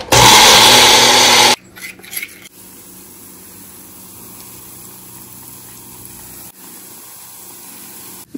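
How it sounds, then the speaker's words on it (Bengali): Washed red lentils with chilli and salt churn loudly in a grinder for about a second and a half, then the motor cuts out and only faint room noise and a few knocks remain. "মুসুরির ডাল তো ভিজিয়ে রাখতে হয় না তো জাস্ট ধুয়ে লঙ্কা দিয়ে আর একটু সল্ট দিয়েছি একটু বেটে নেবো"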